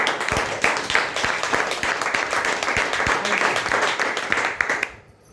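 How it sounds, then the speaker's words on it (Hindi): A standing audience applauds the CMD, a dense, sustained clatter of many hands close by that fades out abruptly at the finish. "एक बार खड़े होकर अगर आप तालियां बजाएं तो बड़ी खुशी होगी"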